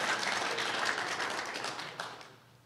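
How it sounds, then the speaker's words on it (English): A political rally crowd cheering and applauding for Tennessee: dense, moderately distant clapping with a few voices that fades over a few seconds. "Let's have a cheer for that"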